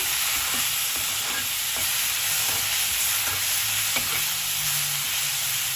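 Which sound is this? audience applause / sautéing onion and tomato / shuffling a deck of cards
sautéing onion and tomato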